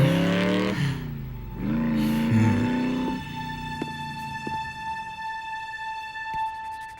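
A cartoon motorbike engine revs hard in rising and falling surges, then settles into a high, steady whine that fades toward the end.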